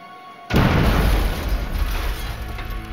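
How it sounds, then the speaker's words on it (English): A mail bomb hidden in a package goes off nearby with a sudden heavy boom, followed by a loud rumbling, crackling wash that slowly fades over a few seconds. "The explosion seriously injured the assistant"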